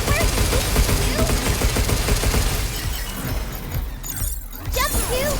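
Rapid gunfire from the video game Pragmata crackles in dense bursts with shattering impacts, loud and near, easing briefly before picking up again.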